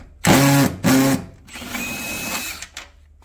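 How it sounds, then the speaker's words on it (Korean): A power tool unscrews fixing screws on a compact Daewoo DWD-905WNB drum washing machine, giving two short loud whirring bursts followed by a longer, quieter run with a thin high whine, close by. "여기 보시면 또 나사가 고정되어 있죠. 이 나사들을 풀도록 합니다."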